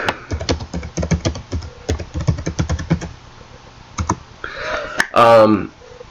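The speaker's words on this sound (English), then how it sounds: "let me just type here for a second" A computer keyboard typed on outdoors at night, a quick close run of clicking keystrokes in bursts, followed by a brief pause and some talking near the end.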